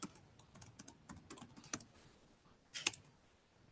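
Quiet, close keystrokes on a computer keyboard come in quick irregular bursts while a command is typed into a terminal, with a brief pause and then a final cluster of clicks.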